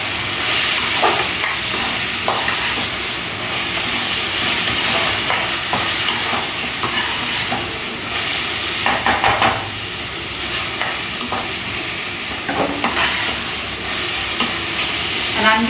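A cut tomato sizzles and fries steadily in a hot pan, loud and close, with intermittent stirring and scraping noises over the constant crackle.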